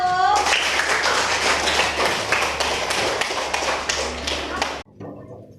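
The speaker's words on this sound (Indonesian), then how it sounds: "Tepuk tangan buat kelompok 1." A classroom of students applauds a group after its presentation, dense continuous clapping close by for several seconds before it stops abruptly, leaving quiet room noise.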